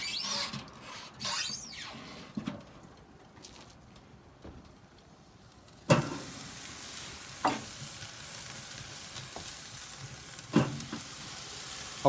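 Ribeye steaks hitting a very hot slow-and-sear grill at 600 degrees, a soft sizzle building after a sharp clank midway, with scattered metallic knocks and no speech.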